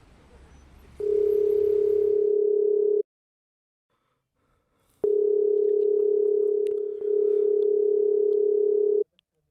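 A telephone ringback tone on an outgoing call, a loud steady electronic tone in long bursts separated by a silent gap, alone with no voices.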